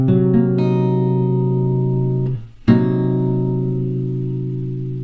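A jazz guitar chord strummed and left to ring, a clear sustained chord that fades slowly, briefly muted and then struck again with a bright attack that rings on.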